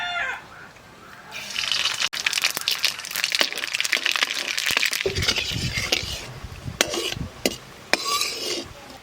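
Mustard seeds dropped into hot oil in a pan while cooking fish, giving a loud, continuous sizzle and crackle with sharp spitting pops throughout, no talk.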